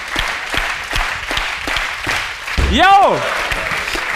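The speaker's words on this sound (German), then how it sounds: "Bitte nochmal Applaus für unsere deutsche Nummer 1 im Tennis" A studio audience applauds on a German TV show for Germany's top tennis player. Steady clapping runs throughout, and one voice calls out briefly partway through.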